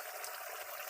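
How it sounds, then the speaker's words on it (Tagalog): Alamang shrimp paste with vinegar bubbles in a covered pot, a soft continuous simmering hiss and gurgle, faint and steady throughout. "Yung kulo niya ang maghahalo."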